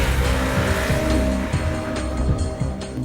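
A KTM 390 Duke motorcycle guns through corners, its engine note rising and falling in quick close passes with a sharp, busy roar and no talk.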